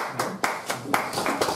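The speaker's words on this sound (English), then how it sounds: "give that a round of applause" Conference audience claps at a talk on ending mass incarceration, several bursts of hand claps in uneven rhythm, close and moderately loud, with no voices over them.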